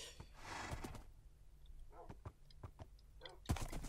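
Faint, soft clip-clops from a horse in Minecraft tap out an irregular string of hoofbeats over quiet ambience, ending with a sharper knock.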